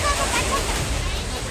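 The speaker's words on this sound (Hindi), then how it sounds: "पानी का बहाव इतना तेज था कि कारें सड़क पर चलने के बजाय पानी में नाव की तरह तैरती हुई दिखाई दी" Fast-flowing floodwater surges down a street in Dehradun, strong enough to carry cars and an auto-rickshaw. It makes a steady, dense rushing and sloshing roar with no pauses, and voices are faintly mixed in.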